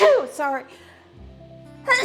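One close, sharp sneeze bursts out in a kitchen during a cooking livestream, followed by a brief spoken apology and another voice.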